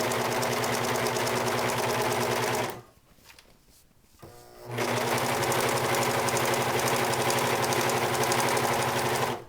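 A serger stitches knit fabric for a pencil skirt with a loud, fast, steady mechanical chatter, drops to near quiet for about two seconds, then runs hard again to the end.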